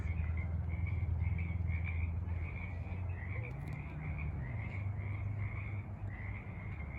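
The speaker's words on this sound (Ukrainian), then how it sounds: "дійшли до якогось болота і тут жаби так розквакалися." Frogs croak in a swamp in a steady, pulsing chorus, with a continuous low drone underneath. No one speaks.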